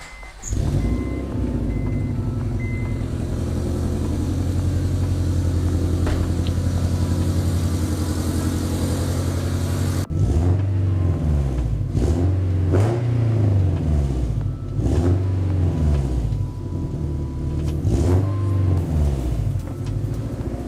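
A Honda Civic with newly installed InfernoFab UEL headers starts and holds a steady, droning idle, then revs repeatedly in rising and falling sweeps, loud and close.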